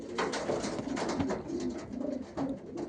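Pigeons cooing close by, soft repeated throaty coos overlapping one another in a continuous, gentle rhythm.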